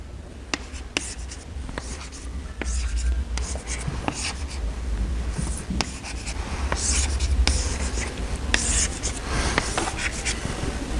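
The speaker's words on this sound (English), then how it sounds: "So, you know, you draw diagrams like this." Pen strokes scratch across a board or paper as diagrams are drawn by hand during a mathematics lecture, a run of quick, irregular scrapes and taps heard close and alone.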